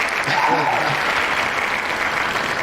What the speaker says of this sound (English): I just wanted to let that applause go on as long as possible.